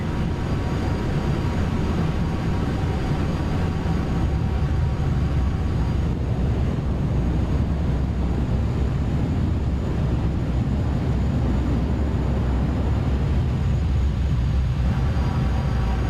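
A jet airliner landing in Flight Simulator X, with steady loud engine roar and rushing wind noise continuing without letup, only faint shifts in tone throughout.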